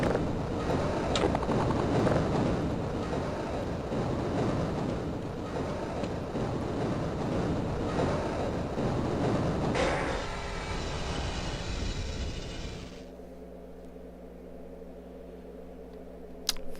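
A tram rolls along rails in Half-Life, a steady broadband rumble with rattling that shifts around ten seconds, then stops abruptly near thirteen seconds, leaving a low electrical hum.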